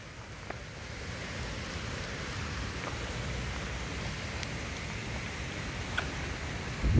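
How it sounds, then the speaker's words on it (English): Steady rain falls on Coconut Island in Hilo, Hawaii, making an even, continuous hiss with scattered drop patter. It is close and constant throughout, with no voices. "it's still coming down pretty steady"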